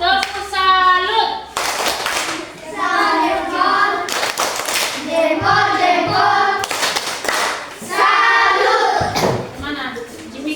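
A classroom group claps for the presenting laptop team, with dense hand-clapping running throughout and rising in bursts, mixed with children's voices and chatter over the top.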